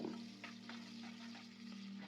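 A steady soft sizzle of chopped onions frying in oil with cinnamon and cloves, with faint stirring scrapes now and then, low and continuous throughout.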